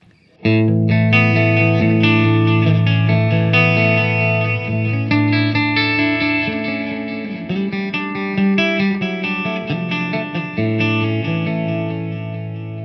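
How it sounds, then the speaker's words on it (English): An electric guitar through a TC Electronic Flashback delay pedal on its 2290 setting, without compression, rings out chords and picked notes, each trailing into repeating delay echoes that smear together and slowly fade. "just the TC Electronics flashback by itself sounds like this on the 2290 setting"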